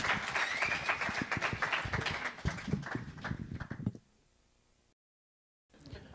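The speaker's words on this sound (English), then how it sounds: "Let's give him a round of applause" A small group gives a round of applause indoors, a few minutes' worth of hands clapping in an uneven, moderately quiet patter for about four seconds before it stops abruptly and falls silent.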